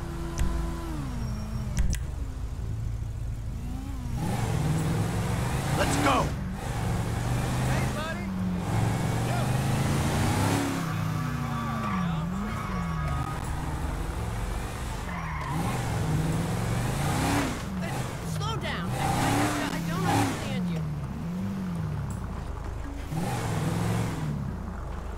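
A car drives in GTA V, its engine revving and shifting with rising and falling pitch over a steady road rumble, while characters talk over it.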